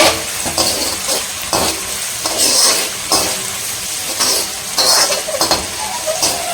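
Curry leaves roast in hot oil for a mutton-style fish chukka, giving a close, steady sizzle broken by repeated scraping stirs of a spoon against the pan, with no voices.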